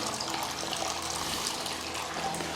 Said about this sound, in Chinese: 我们来看它这个水流， 这边这个水流还是挺大的，